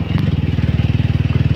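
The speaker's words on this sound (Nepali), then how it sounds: "सोलिङ गरेको बाटो भएर बाइकलाई हिँड्नलाई गाह्रो छ।" A motorcycle rides slowly along a brick-paved road on the way to a scenic spot, its engine giving a steady, close, rhythmic low throb with regular pulsing bumps and no speech.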